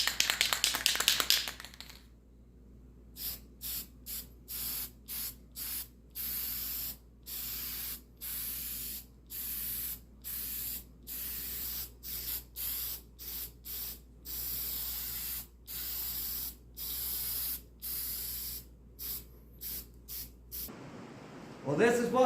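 Finish is sprayed onto a wooden butcher block board in many short hissing bursts, repeated at a steady rhythm. The sprayer sounds close, with a louder hiss at the start and end.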